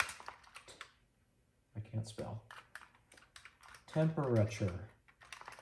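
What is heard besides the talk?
typing on Texas Instruments TI-99/4A Mitsumi keyboard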